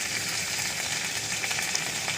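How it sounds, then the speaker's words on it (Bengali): Curry leaves and mustard seeds sizzle in hot oil in a pan, the first step of a poha dish: a steady, close, bright hiss of frying with faint crackles and no talking. "কারি পাতাটা দিয়েও ভাজা ভাজা একটু করে নিচ্ছি"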